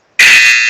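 A harsh electronic buzzer blares loud and steady in a single sustained blast.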